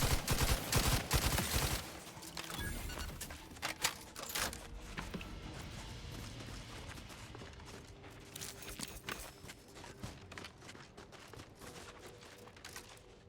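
Gunfire in The Outer Worlds 2, a dense burst of loud shots at the start easing into scattered, fainter shots and rattling bursts over a steady background of combat noise.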